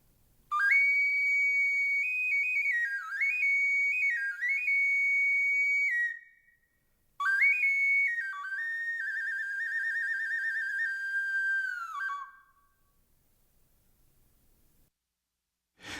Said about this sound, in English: This type of artifact is known as an Airspring Whistle